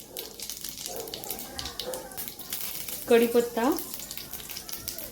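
Mustard seeds splutter and sizzle in hot oil in a kadhai for dal tadka, a steady frying crackle under a voice, with a few sharper pops midway.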